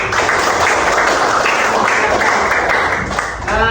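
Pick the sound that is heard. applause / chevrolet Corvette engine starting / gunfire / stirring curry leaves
applause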